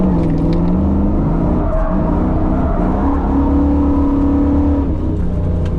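F-body car engine revving hard through a clutch-kick drift on a sweeping corner of a night touge road, a loud continuous close-up drone with rising and falling pitch as the revs change.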